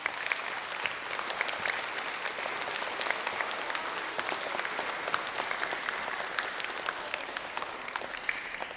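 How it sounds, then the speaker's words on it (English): Primary school children at a school proms concert clap for their teachers, a steady, dense patter of applause heard from a slight distance with no talk over it. "Can you clap for your teachers and all the help they've given you to do this?"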